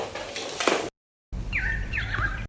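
Bird calls in an outdoor recording, with a squawky call, a sudden cut to silence, then sharper chirps over a low background rumble.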